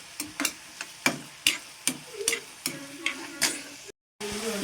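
Onion and chili stir-fried in a pan, with a spoon knocking and scraping in a quick, uneven rhythm over a soft sizzle, heard up close; a brief dropout of silence comes near the end.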